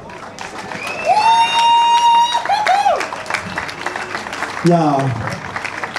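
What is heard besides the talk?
crowd applause and cheering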